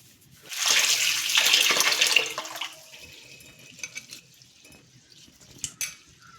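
Rice and lentils being washed in water, with a burst of close splashing and swishing for a couple of seconds that then settles into quieter sloshes and occasional drips.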